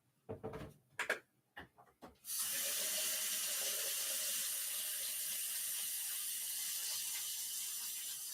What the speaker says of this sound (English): I just got to wash up because this stuff is definitely just a mess.